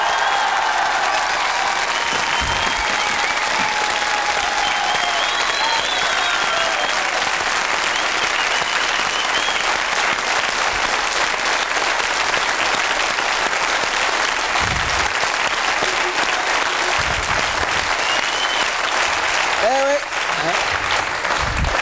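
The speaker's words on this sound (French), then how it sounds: "je vous demande d'applaudir et debout, si ça ne vous dérange pas trop, le magnifique Iggy Pop" Live TV studio audience giving a long, dense round of applause for Iggy Pop, continuous clapping and crowd noise that holds steady for over twenty seconds, with a brief voice near the end.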